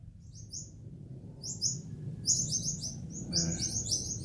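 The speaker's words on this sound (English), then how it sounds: "Here are the honey eaters again, the whole family, well, a bit of a family, and they're making quite a noise." A small family group of honeyeaters chirps in a garden, bursts of bright, quick overlapping calls that start sparse and grow busier and louder, with some soft low rumble underneath.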